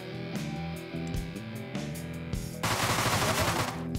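SMG gunfire in the video game Deadbolt: several rapid automatic bursts of shots over game music, ending in a dense, loud sustained volley.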